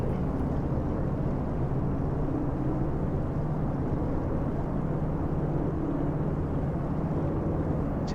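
Loud, continuous droning roar of twin aircraft engines held at test power during a run-up, a steady broadband rumble that stays even throughout without talk.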